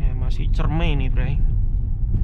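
A Mitsubishi Xpander Ultimate CVT driving along a bumpy village lane produces a continuous low rumble and road noise. Someone talks over it the whole time.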